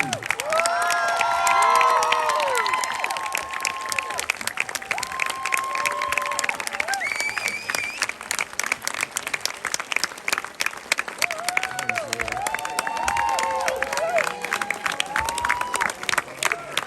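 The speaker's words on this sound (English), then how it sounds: "give a huge round of applause as we welcome Stacey Ann Chin" A film screening Q&A audience at the Hot Docs festival in Toronto claps steadily for a guest, with scattered cheers and whoops rising over sustained applause throughout.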